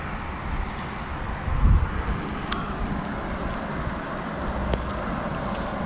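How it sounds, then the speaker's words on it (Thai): Wind gusts blow steadily past a fruit seller's roadside stall during the rainy season, a broad low rumble with a louder buffet partway through and no talk. "นั่นครับลม หนาวพร้อมได้นี่"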